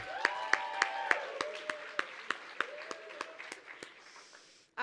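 Applause at a family-focused conference event, a string of sharp, evenly paced claps from one or a few people over a faint crowd murmur and a sustained tone, fading before a loud sudden noise at the very end.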